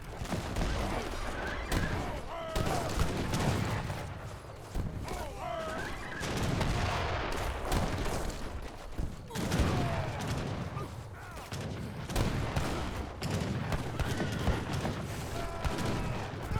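Gunfire and cannon booms from a battle in Age of Empires 3 with culverins, longbowmen and war wagons, continuous overlapping volleys and thuds at steady loudness.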